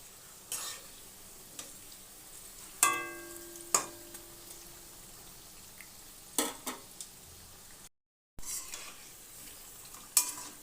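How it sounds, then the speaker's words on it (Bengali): Brahmi leaf pakoras frying in oil, a quiet bubbling sizzle punctuated by several sharp clinks and scrapes as they are turned with a utensil, one ringing metallic tap standing out. "এইভাবে উল্টে দিয়ে দিয়ে ভেজে নেব"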